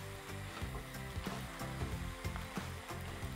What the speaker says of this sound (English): continue to fry over a medium heat for between 5 and 10 minutes until the lamb has